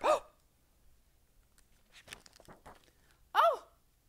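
A person voices a loud burp sound, a short throaty belch at the start and another near the end, with brief spoken sounds in between; a voice imitates a burp after eating melon.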